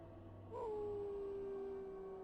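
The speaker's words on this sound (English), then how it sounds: "He howls mournfully." A dog in the video game Dragon Age: Origins howls mournfully, a single long sustained wail that rises briefly and then holds steady, clear and prominent over a faint background hum.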